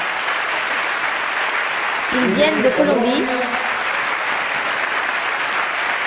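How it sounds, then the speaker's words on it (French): Audience applause for a visiting orchestra from Colombia, a steady wash of clapping that runs through the whole stretch while someone speaks briefly over it partway through. "Donc un grand applaudissement pour cet orchestre."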